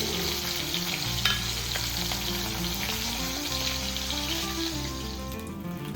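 Fish frying slowly in a pan of hot oil at home: a dense, continuous sizzle with soft crackles for several seconds, close and fairly loud, no voices.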